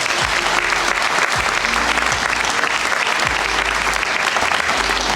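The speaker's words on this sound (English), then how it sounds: "Can I have a round of applause for our awards committee?" Audience at a police awards night applauding, loud sustained clapping from a large crowd filling the room without pause.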